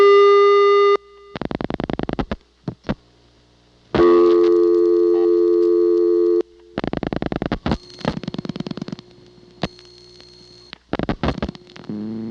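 Tones from a 1982 Siemens telephone switch in Ocala, Florida: a steady tone, rapid pulsed bursts and long sustained signals that alternate with short silences, clean and close with no talking.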